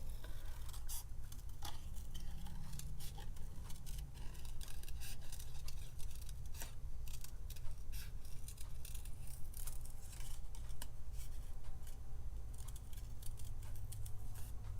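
Scissors fussy-cut a stamped paper scrap for a whimsical tree card, giving a steady run of small snips and soft scraping ticks, close and quiet, with no talking.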